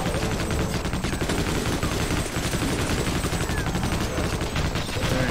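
Sustained machine gun fire in the shooter game Sven Co-op, a dense, unbroken rattle of rapid shots, loud and close, running through the whole stretch with no pauses.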